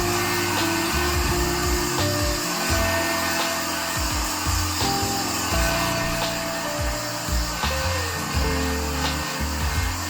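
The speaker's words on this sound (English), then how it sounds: "if you want to speed up this process you can use your heat gun" Heat gun blowing on freshly painted car trim, a loud continuous whooshing drone with shifting tones as it moves, close up and without speech.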